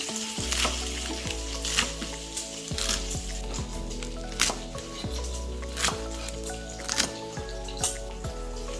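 Bacon sizzling and frying in a pan while making Zuppa Toscana soup, a steady crackle with popping drips and occasional stirring scrapes, close and clear with no talking.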